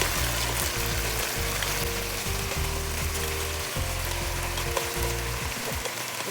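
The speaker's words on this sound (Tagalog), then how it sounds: "Mga 3 to 5 minutes lang yung pag-fry ko." Chicken pieces for a Filipino-style creamy chicken curry fry in a pan, a continuous close sizzle with steady hiss and crackle that stays loud throughout.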